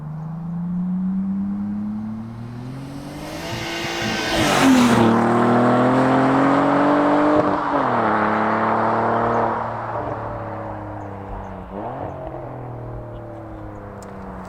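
A loud, exhaust-modified performance car accelerates hard and flies past during a loudness comparison. The engine note rises through the gears and peaks as it passes close by, then fades into a steady drone.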